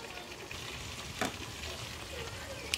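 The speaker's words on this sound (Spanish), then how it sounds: "nuestras pechugas de pollo que tenemos por ahí friéndose" Chicken breasts fry in a pan with a faint, steady sizzle and crackle, broken by a couple of sharp clicks of utensils.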